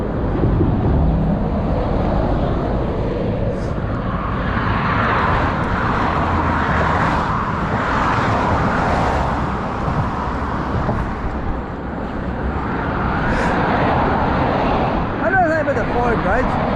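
Traffic rushes past fast on the Foyle Bridge, a continuous roar of tyres and engines mixed with heavy wind buffeting on the microphone, swelling and easing as vehicles go by.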